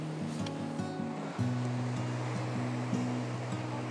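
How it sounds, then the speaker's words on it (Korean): Strong sea waves wash steadily against the shore at a fishing spot, a continuous broad surf rush with a low tonal hum running underneath, no voices present. "파도가 세서. 오늘은 진짜 많이 잡을 거야."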